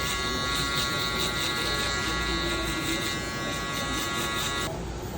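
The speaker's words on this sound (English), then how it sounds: "follow it up with the Metal Instinct shaver one more time, just to bald out all that stubble down to the skin" A Metal Instinct electric shaver buzzes steadily and close while taking stubble down to bare skin during a barbershop low-fade haircut. The hum runs unbroken with a faint shift in tone near the end.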